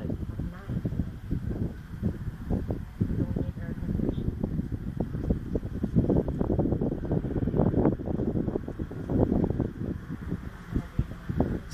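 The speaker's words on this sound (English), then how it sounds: "wind is so nice here in Tagaytay" Steady wind gusting at night in Tagaytay, a dense rumbling whoosh buffeting the microphone throughout with continuous low roar and no clear voices.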